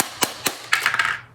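Small screws drop out of an opened VHS tape cassette, making a few sharp, light clicks and rattles, close and brief, with no talking.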